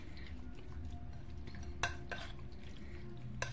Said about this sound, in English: Okay, I'm going to kind of stir it up here.